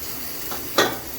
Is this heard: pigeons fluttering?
no